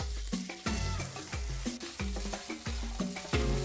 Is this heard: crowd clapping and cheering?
no